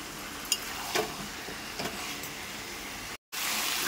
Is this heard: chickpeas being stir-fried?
yes